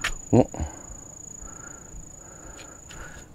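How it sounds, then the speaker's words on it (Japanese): Bell crickets (suzumushi) keep up a steady high ringing trill along a walking path on Chiringashima island. Brief spoken words and a thump of footsteps come early in the clip. "スズムシが鳴いてる。"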